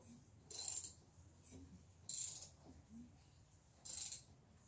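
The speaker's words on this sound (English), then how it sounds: "So this is just moving the cylinders up and down." Outboard engine cylinders worked up and down by hand during winterization with oil coating them, giving three separate brief mechanical whooshing strokes spaced about every one and a half seconds, close and fairly quiet.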